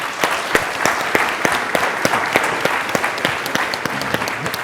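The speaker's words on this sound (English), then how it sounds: "Let's give our panelists a big round of applause." A panel session audience applauds its panelists at a data science summit, with dense, steady clapping from a sizeable crowd and sharper individual claps standing out, held evenly through the whole stretch.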